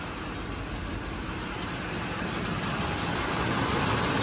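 A Chevrolet Duramax truck diesel engine idles with the air conditioning running, a steady close rumble with even broadband noise that holds level throughout, no voices present.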